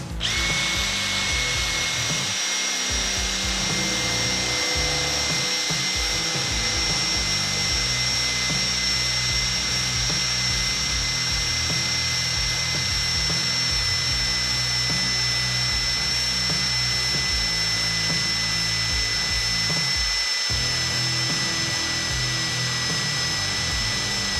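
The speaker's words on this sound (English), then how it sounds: "We're going to start with the hardware store 1/4 inch bit and a hand drill." A hand drill with a 1/4-inch hardware-store bit whines steadily and close for a long stretch, its grinding tone almost constant with brief dips as the bit bites into a steel railroad spike.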